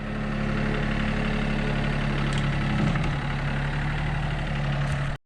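A tractor engine idles steadily and loudly nearby, a constant low rumble with a droning hum that holds for several seconds before cutting off abruptly.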